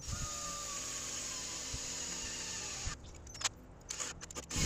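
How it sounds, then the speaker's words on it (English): A power drill bores mounting holes for circuit breakers inside a camper, a steady whine for about three seconds that cuts off, followed by short clicks and knocks of handling, close and fairly loud. "Drilling the mounting holes for the circuit breakers."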